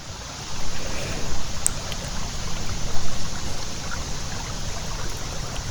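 Water flows over rocks in a shallow, rocky river, a steady broadband rush and gurgle heard up close with no pauses.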